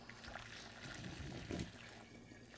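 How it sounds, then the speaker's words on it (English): Hot brewing liquid for beer trickles slowly into a funnel over ice-cold water, a faint, soft continuous pouring with small splashy swells. "You want to pour it very slowly into the funnel."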